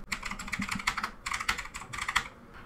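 Rapid typing on a computer keyboard while searching for Windows features in Windows 11, with close, crisp keystrokes in quick bursts separated by brief pauses and no talking.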